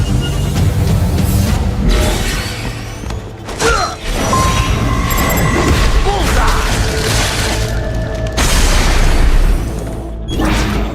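Explosions from a Harrier jet bombing run in Metal Gear Rising: Revengeance on PS3, loud booming blasts with crashing debris and mechanical clatter, dense and sustained with short dips between hits.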